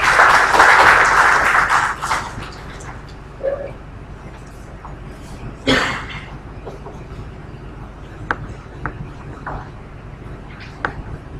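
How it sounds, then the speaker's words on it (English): Audience applause welcoming a guest engineer to the stage at a public lecture, a dense burst of clapping for about two seconds that quickly fades, followed by scattered claps and hall noise. "with a warm round of applause"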